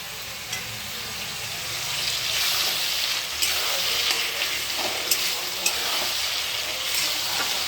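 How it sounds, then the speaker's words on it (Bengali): Onions frying in a wok for mutton curry give a continuous crackling sizzle, with occasional sharp clicks of a spatula and stirring scrapes, close and steady. "পেঁয়াজটা মোটামুটি ভাজা হয়ে গেছে"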